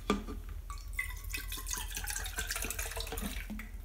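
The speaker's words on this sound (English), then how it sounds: "Just gonna add some water in here." Water is poured into the cup of an Avanti 5-stage HVLP turbine sprayer, a close, steady trickle and splash lasting a few seconds with some dripping.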